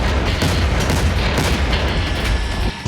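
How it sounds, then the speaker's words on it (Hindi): A blast reported from Syria booms through a dense, sustained roar of heavy rumble and crackling debris, loud and continuous for the whole stretch with no voices. "एक धमाका और सब कुछ तबाह।"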